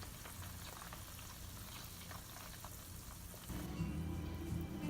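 Pork fat renders into lard in a pot, a steady dense crackling sizzle like light rain that swells louder and fuller partway through, close and continuous with no talking.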